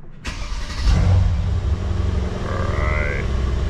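A 500 hp Mercedes-AMG starts up with a sharp crank, then the engine flares to a loud rumbling roar before dropping to a deep, steady idle, recorded close by.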